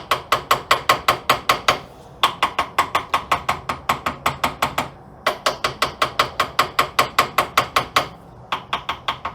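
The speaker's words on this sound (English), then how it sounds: "I'm really just using the weight of the hammer" Rapid, even hammer taps ring on metal during work on a 1936 Chevy Coupe's vacuum wiper motor, loud and close in four quick runs of strikes separated by short pauses.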